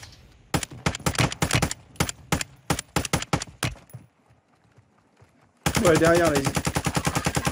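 Rapid bursts of automatic gunfire in the battle-royale game Warzone crack loudly in quick strings, then a short quiet gap before another sustained volley, with brief talk from a player.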